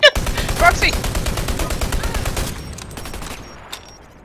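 Rapid automatic gunfire from the shooter game Dirty Bomb, a loud sustained burst of close shots that opens with a sharp crack and runs about two and a half seconds before fading into quieter game sounds.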